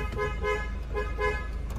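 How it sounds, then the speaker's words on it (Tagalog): A car horn honks in a few short repeated toots over a steady engine rumble, close and fairly loud. "Ganda ng busina."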